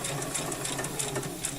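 A sewing machine stitches jelly roll quilt strips, a close, steady rapid whir with fast needle chatter running through the whole short stretch.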